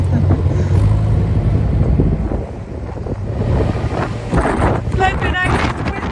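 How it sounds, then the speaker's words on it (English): Strong wind buffets a narrowboat on the Oxford Canal near a swing bridge, a loud, steady roar rushing across the microphone throughout, with a voice and some clattering audible toward the end. "Flipping out, it's windy."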